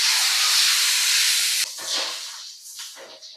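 Sauce for chicken 65 hits hot oil with curry leaves, garlic and chilli in a kadai, giving a loud, steady sizzling hiss that abruptly drops after about a second and a half into softer, uneven crackling and spitting.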